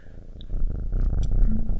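A house cat purrs close up, a steady low rumbling with faint background sounds; no one speaks.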